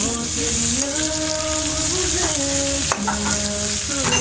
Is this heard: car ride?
no